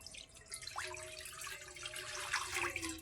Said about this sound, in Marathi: आता पाणी टाकते कोथिंबीरच्या वड्या उकडायला.